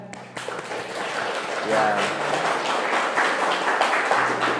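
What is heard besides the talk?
applause, clapping in class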